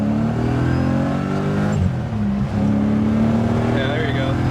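A BMW E30 coupe with a swapped M60B44 V8 pulls hard under acceleration, a loud, steady engine drone rising in pitch from inside the car, with a brief dip midway as it shifts and keeps pulling.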